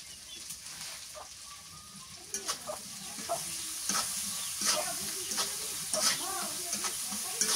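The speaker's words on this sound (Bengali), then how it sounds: "পেঁয়াজ মরিচের মধ্যে শুটকিটা দিয়ে ভাজা নিই ভালো করে" Dried fish frying with onion and chili in a pan, a steady sizzle broken by repeated scraping stirs and light clinks, close and moderately loud, with a faint voice now and then.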